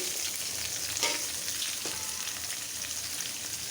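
Onion frying in a little oil for a liver curry, a steady broadband sizzle holding throughout with a couple of brief stirring scrapes, close and moderately loud, no voices.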